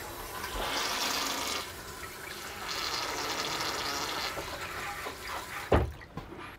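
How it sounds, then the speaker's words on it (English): Dometic 310 Part-Timer RV toilet in a 2016 Keystone Hideout trailer flushing, a steady rush of swirling water into the bowl that surges and fades, ending with a short thump near the end. "it's gonna give you a swirl effect to kind of also clean your bowl and make sure everything's flushing down correctly"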